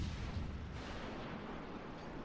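Sustained heavy naval gunfire rumbles through a World of Warships: Legends battle, a loud dense wash of booming cannon blasts and low explosions running throughout with no clear gaps.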